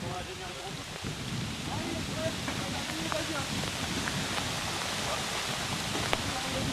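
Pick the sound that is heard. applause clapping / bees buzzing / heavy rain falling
heavy rain falling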